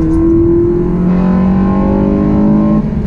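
Honda Civic FN2 Type R fitted with a TSS induction kit pulls hard through the gears, its engine note rising steadily and loudly up close before a brief dip near the end as the gear changes.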